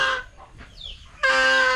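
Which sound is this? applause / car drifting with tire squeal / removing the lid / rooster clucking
rooster clucking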